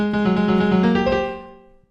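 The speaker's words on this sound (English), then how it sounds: "I will drag in my full grand piano sound right here" A single digital grand piano sample chord rings out, bright and sustained, then fades away over about two seconds.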